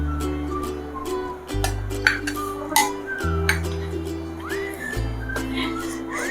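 Chutney being spooned into chana chaat in a dish, with soft clinks and scrapes of spoon on the dish over a steady low music bed, punctuated by a few brighter taps.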